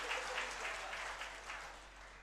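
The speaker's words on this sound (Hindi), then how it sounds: "अब तो ताली अच्छे से बजा दो" Audience clapping at a religious gathering, a dense continuous patter of applause that stays steady and fairly loud for about two seconds, with no voices over it.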